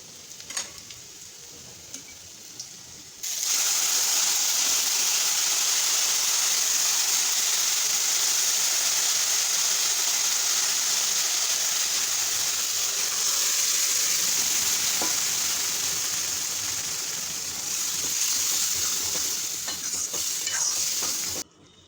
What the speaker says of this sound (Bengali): রসুনগুলো ভাজা হয়ে গেছে এখন আমি ডালটা দিয়ে দেবো